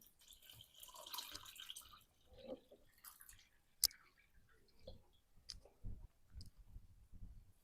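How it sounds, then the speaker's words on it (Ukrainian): Water is poured over peeled, coarsely grated potatoes in a kitchen, giving a soft splashing rush in the first seconds followed by scattered drips, light clinks and a sharp click, with no talking. "тепер заливаю її водою"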